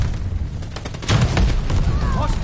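A sudden in-game explosion in a Jaegers RPG-style shooter, a loud boom about a second in followed by sustained rumbling debris and background battle noise, with a voice talking underneath.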